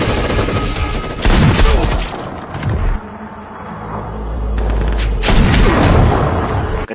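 A film shootout with a sniper firing, dense volleys of loud gunshots and booming impacts in two heavy bursts separated by a quieter stretch of low rumble, with no speech.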